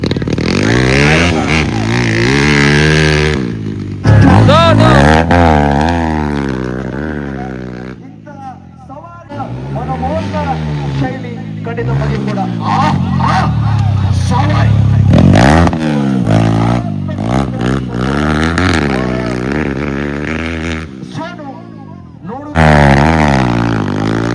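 Motorcycles rev and roar at a village bike race, engines rising and falling loudly and close under constant excited commentary from a speaker.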